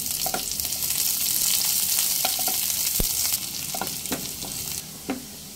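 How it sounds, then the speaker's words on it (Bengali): Half a cup of chopped onion frying in the same oil used for chillies, a steady close sizzle with scattered utensil clicks and stirring scrapes throughout. "ওই একই তেলের মধ্যে আমি হাফ কাপ পরিমাণ পেঁয়াজ কুচি দিয়ে দেব।"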